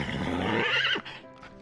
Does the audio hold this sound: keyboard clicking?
no